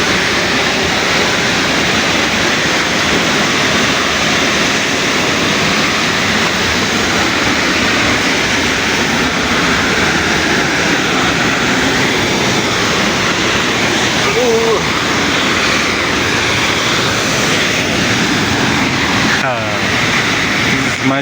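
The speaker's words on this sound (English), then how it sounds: "can you see this awesome waterfall?" A hidden waterfall at Koromosho roars as a steady, loud broadband rush of falling water, continuous throughout with faint voices mixed in underneath.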